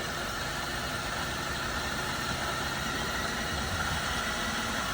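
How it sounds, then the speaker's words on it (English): A 1999 Buick Regal at a city auction lot, just jump-started, idles with a steady, even broadband rumble and no distinct revving, heard close and continuous for the whole stretch. "This is going to be a 1999 Buick. Started right up with a jump box."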